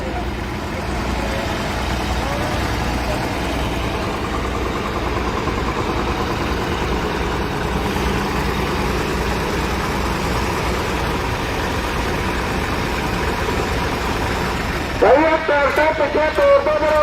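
Several farm tractors idle at a farmers' tractor march on Republic Day, a steady low engine rumble running throughout under background voices and crowd noise, with a louder burst of sound and shouting near the end.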